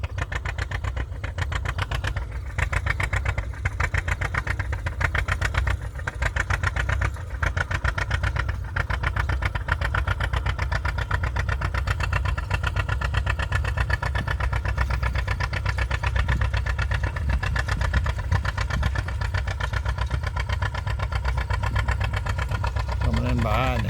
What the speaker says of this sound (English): There's a John Deere coming through. Looks like maybe a 60, possibly 70.